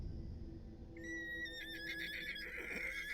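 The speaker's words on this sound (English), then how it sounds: "A horse." A horse, apparently upset and kicking, gives a loud shrill whinny that rises and wavers for about two seconds over low background rumble, with no talk.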